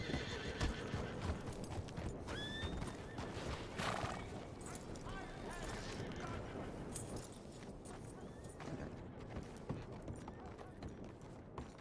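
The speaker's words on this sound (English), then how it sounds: "It's McGregor's horse." A horse in a Wild West roleplay video game neighs and whinnies over steady clip-clop hoofbeats, a dense, continuous mix that runs for the whole stretch with other busy game ambience beneath it.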